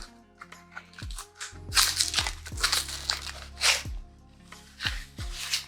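Cardboard packaging box holding nail polishes being peeled open by hand, a run of crackling, crinkling tears and sharp snaps of card, close and moderately loud, with no talking.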